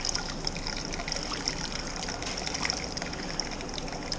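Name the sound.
pouring sparge water onto grain bed while brewing beer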